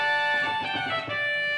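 A pipe organ's trumpet stop gives a bright, reedy, buzzing held tone, almost bagpipe-like, sustained with slight shifts over under two seconds, unaccompanied by speech.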